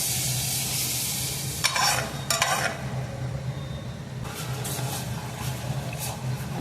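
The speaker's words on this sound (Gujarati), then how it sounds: "અને બધું હલાવીને મિક્સ કરી દઈશું. હવે તેની અંદર આપણે દાળ ઉમેરી દઈશું" Chopped onions and lentils stirred in a hot pan for sambar, with a low steady sizzle and a few bursts of scraping spoon strokes, close up and without talk.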